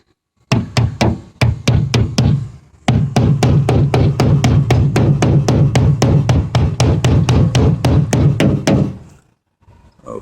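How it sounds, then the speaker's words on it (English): Metal hammering on a bent fender of a 1993 Toyota Tercel, a fast regular series of loud, close, ringing blows with a short pause near the start, then stopping cleanly. "I'm going to carefully straighten the fender so that the sharp edges doesn't stick out into the tire anymore"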